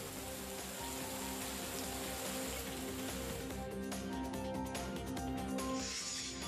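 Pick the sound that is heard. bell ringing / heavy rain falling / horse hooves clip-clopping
heavy rain falling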